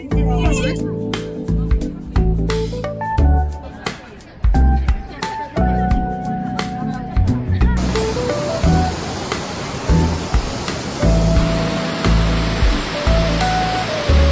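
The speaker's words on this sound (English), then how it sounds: "this is a waterfall inside the area" Steady broadband rush of a waterfall in China's Jiuzhai Valley swells in halfway through, layered under music and some talking.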